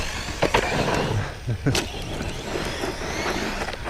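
A Team Corally Dementor XP RC car bashing on 6S power at half throttle on a small track gives off a continuous whirring motor drone with brief knocks and bumps, close by, while someone talks over it.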